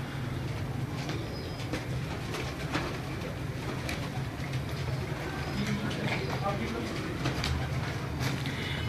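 Salade pigeons coo faintly within a dense, steady wash of background noise, with the calls partly buried and voices present.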